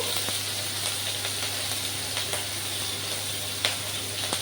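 Onion paste with dried chilli sizzling in hot oil, a steady close frying hiss broken by a few sharp pops, with no talk.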